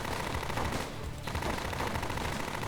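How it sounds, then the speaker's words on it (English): Rapid gunfire in the visual novel Witch of Steel Annerose, a dense unbroken hail of shots roaring loudly with a brief dip midway, no speech over it. "Dozens, no, hundreds of gunshots go screaming right over my head."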